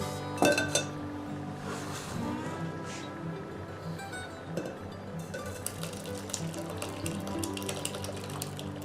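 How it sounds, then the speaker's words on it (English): Blueberry and cherry mash strained through a fine mesh strainer, with close clinks and scrapes of metal utensils and pots, wet dripping and splashing, and steady kitchen clatter throughout. "we're going to strain this all out. And I'm just using a fine mesh strainer."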